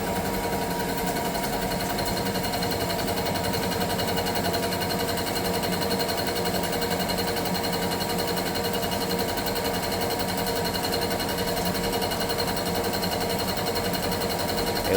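A large milling cutter turning at 700 RPM with a 6.8 inch-per-minute feed takes a shallow cut of about eight thou in metal, giving a steady, continuous machining whir and chatter throughout.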